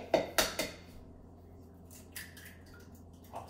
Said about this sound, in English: And then you want to go ahead and crack some eggs.